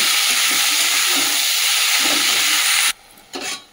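Leafy greens (saag) hit a hot pan with fried onions, giving a loud, close, steady hissing sizzle that drops off sharply near the end, followed by a brief softer burst of frying.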